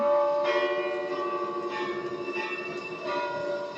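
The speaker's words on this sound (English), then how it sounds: "The bells! They broke loose from the webbing!" Bell-tower bells in an animated Spider-Man cartoon, sustained metallic ringing with steady overlapping tones and periodic fresh strikes, loud and continuous throughout.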